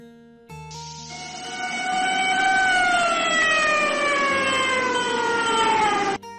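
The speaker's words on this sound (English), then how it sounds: "Ambulance." An ambulance siren wails in a steady, loud tone that slowly drifts downward in pitch over several seconds, heard close and alone before cutting off abruptly.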